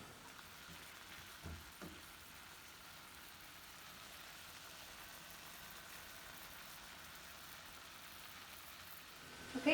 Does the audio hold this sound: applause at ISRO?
no